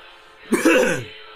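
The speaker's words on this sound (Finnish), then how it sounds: "Mä yskin täällä muuten, kun mä oon just syönyt jotain" A person gives a single rough cough or throat clear after eating, close and fairly loud, lasting about half a second against a faint background.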